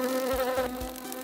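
A cartoon housefly buzzes with a steady, close, droning whine that runs through the whole short moment without any talk.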